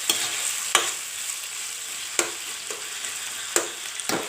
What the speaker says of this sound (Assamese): এতিয়া মই অকণমান লৰাই দিম।